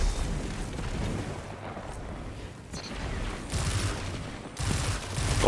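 Rocket fire and explosions in Destiny 2 Trials PvP around Midtown's market area, heard as a dense barrage of rumbling blasts and gunfire bursts that swell and recede, with loud impacts near 3.5 and 4.6 seconds.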